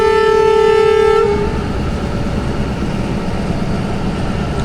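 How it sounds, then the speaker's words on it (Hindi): A Jaffar Express passenger train pulls away again from Fakirabad after a short stop. A loud horn blast opens the sound, then a steady rumble and rattle of the carriages rolls on close by. "कुछ सेकंड रुकने के बाद दोबारा चल पड़ी हमारी ट्रेन फ़कीराबाद से"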